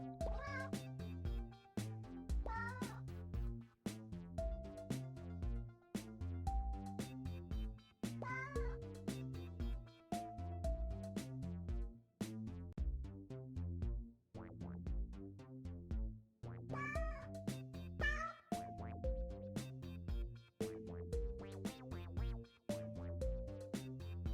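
A cat in a video game meows repeatedly in short, clear, tonal cries spaced every second or two, mixed with steady game music and faint background tones.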